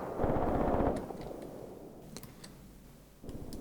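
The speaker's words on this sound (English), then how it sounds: "Artillery is hitting me." Artillery fire striking units in Graviteam Tactics, a loud rumbling burst up front that fades into a distant wash, with scattered sharp cracks and a renewed roar near the end.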